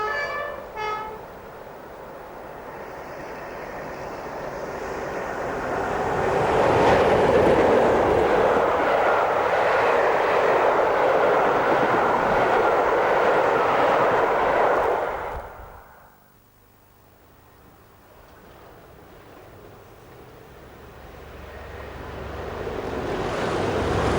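A1A Rail Tours' The Longest Day railtour train runs on the Mid-Hants Railway in 1997: a broad rumbling roar swells to a loud, sustained peak, drops away sharply, then begins building again, with no voices.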